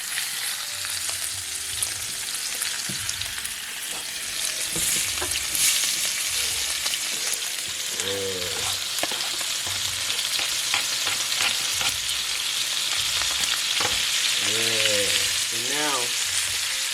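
T-bone steak and onions frying together in one pan, a steady loud sizzle with occasional stirring and scraping clatter throughout, with no talking.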